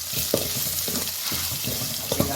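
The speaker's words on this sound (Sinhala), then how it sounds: "ඒ වගේම රම්පේ කරපිංචා ටිකක් මම එකතු කරගෙන මම හොඳින් බැද ගන්නවා." Pandan (rampe) and curry leaves fry in a pan for a South Indian sambar gravy, giving a steady, close sizzle with light stirring and a few soft clinks, and no voices.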